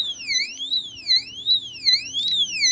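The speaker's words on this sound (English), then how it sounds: "Alarm goes off." A B and O alarm sounds during a test, a loud electronic siren sweeping up and down in pitch in a steady repeating wail, close and alone.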